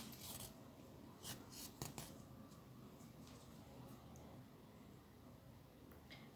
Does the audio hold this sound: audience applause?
no